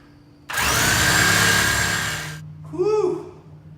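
A power saw roars loudly for about two seconds while cutting through control arm bolts on a 2000 Mustang GT, then stops, followed by a short voiced exclamation.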